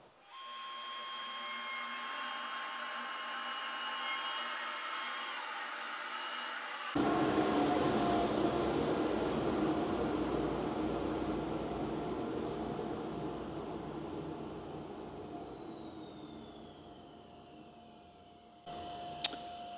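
A JessEm Pow-R-Tek SR router mounted in an INCRA Mast-R-Lift II cuts a pass in wood. A steady near motor whine shifts into a rougher, louder cutting roar partway through, then slowly winds down, and a brief click comes at the end.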